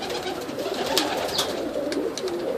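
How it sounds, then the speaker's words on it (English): Young tippler pigeons coo softly inside a new loft in the early morning, a steady low murmur of overlapping coos against a constant rushing background. "It's a couple of my young birds."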